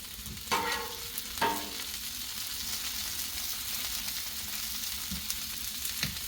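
Onions fry in melted shortening on a Blackstone griddle, giving a steady bright sizzle with a couple of louder scraping spatula strokes near the start and faint taps later.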